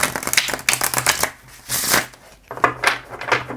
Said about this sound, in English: I love shuffling linen paper